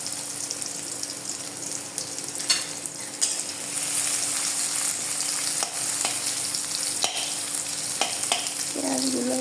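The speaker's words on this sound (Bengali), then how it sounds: "প্রথমে এখন আমি পেঁয়াজগুলো একটু ভেজে নিচ্ছি।" Onions sizzling steadily in a pan for a Bangladeshi potato mash, a continuous frying hiss broken by a few sharp scrapes and taps from stirring, close and clear with no voice over it.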